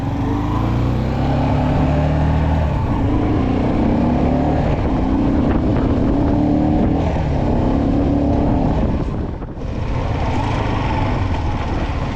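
A vehicle drives along a road toward a village, heard as a loud, steady engine drone with road rumble throughout and a brief dip in the noise near the end.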